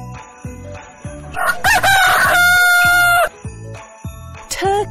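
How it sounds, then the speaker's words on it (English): A rooster crows loudly, one long raspy call, over a bouncy rhythmic backing beat. "Rooster."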